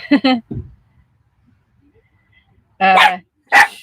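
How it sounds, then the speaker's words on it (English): A dog barks at surfers beside a parked van at the beach, with two quick barks up front, then a short pause and two louder, close bursts that sound like barks or yelps. "There's some guys over here that went surfing, and Lily's barking at them."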